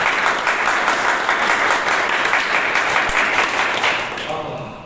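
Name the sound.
louder church congregation applause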